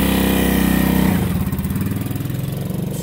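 A Moto Morini 3.5 V-twin motorcycle runs close by on a driveway, its loud throbbing engine shifting note as it pulls away and continues with a steady, pulsing beat.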